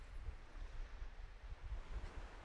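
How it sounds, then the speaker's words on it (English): Waves lap gently as a steady, faint wash of water in Microsoft Flight Simulator 2020, heard alongside soft wind during a Beaver floatplane flight over Canada. "There you can hear those waves so confidently lapping as though they aren't frozen."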